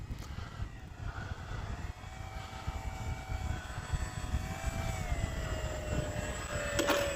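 An E-flite Commander RC plane flies and comes in to land, its electric propeller whining steadily at a distance with gently rising and falling pitch as it manoeuvres. No one speaks.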